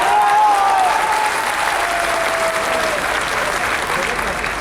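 An audience claps at an academy program in Bhilwara, a steady, dense applause that fills the whole stretch at an even, fairly loud level.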